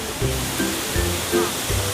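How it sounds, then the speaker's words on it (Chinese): The main cascade of Dexing Falls roars in a steady, close wash of rushing water while a few voices talk faintly over it. "我们来到了德兴瀑布的主瀑布"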